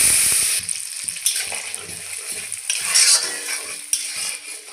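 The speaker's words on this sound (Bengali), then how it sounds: "যে মশলাটা করে রেখেছি দিয়ে দেব।" Ground spice paste goes into a pan of oil with fried cloves, cardamom, cinnamon and raw tomato for matar paneer, producing a continuous close sizzle with wet stirring and scraping sounds.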